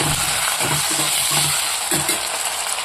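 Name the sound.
stirring tomato pieces in a sizzling pan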